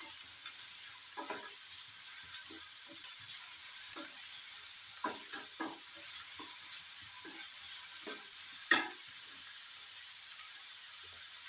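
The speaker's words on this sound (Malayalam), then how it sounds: "ഉള്ളിയൊന്ന് വഴറ്റി കൊടുക്കാം" Chopped onion sautéing in a pan, a soft steady hiss of frying under quiet, irregular scrapes and taps as it is stirred, close by with no talk.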